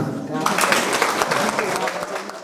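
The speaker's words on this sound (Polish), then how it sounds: "Bardzo Prosimy o brawa" Applause at a diocesan Marian poetry contest award, a dense burst of audience clapping for a couple of seconds, close and fairly loud.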